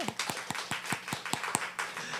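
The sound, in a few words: clapping to welcome church visitors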